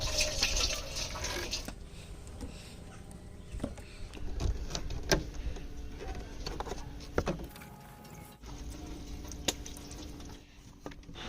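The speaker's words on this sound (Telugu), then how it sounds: "రేడియేటర్లో ఉన్న కూలెంట్ అంతా కూడా బయటకు వస్తుంది చూడండి" Coolant draining from a Swift car's radiator after a hose is disconnected, a soft continuous trickle and patter of liquid with scattered drips and small clicks, fairly faint and close.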